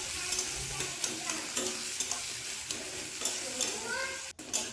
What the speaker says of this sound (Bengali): পেঁয়াজটা দেওয়ার পর পেঁয়াজটাকেও ভেজে নিচ্ছি